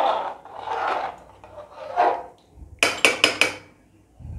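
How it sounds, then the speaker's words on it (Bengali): A spoon scrapes and clatters in a pot of peas pulao with brown sugar, first as soft stirring rubs, then four sharp metallic knocks close together, with quiet between. "এটা ভালো করে নেড়ে দিলাম।"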